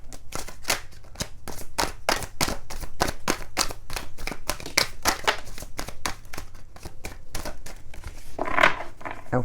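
Deck of tarot cards being shuffled by hand during a pick-a-pile reading, a rapid run of close, crisp riffling snaps and flutters in quick rhythmic bursts, fairly quiet and without talk.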